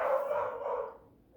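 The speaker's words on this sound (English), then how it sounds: "They barking." Dogs at home give a short burst of barking, moderately close, fading out after about a second with no talk over it.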